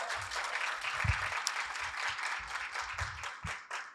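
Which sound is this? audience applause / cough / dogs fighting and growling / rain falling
audience applause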